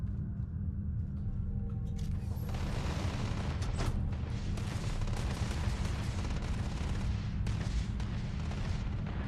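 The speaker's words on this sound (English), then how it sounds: "That's a lot of gunfire." Distant gunfire and booming blasts from a firefight in the space game Starfield crackle over a steady, heavy low-end rumble, with sharper reports breaking through at intervals.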